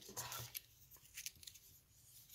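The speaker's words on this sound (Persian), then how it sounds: "قیچیش" Scissors snip through printed paper in several quick, soft cuts at close range, quiet with a faint voice in the background.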